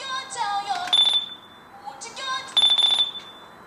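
A portable CD player with electronic skip protection gives short high electronic beeps in two quick clusters while skipping between tracks, close and fairly loud against a quiet background.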